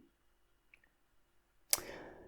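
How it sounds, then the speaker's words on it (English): A single sharp acoustic impulse click snaps out of near silence in open space in Finland, followed by a brief fading noisy tail. "the Playing the impulse produces mostly just a click sound."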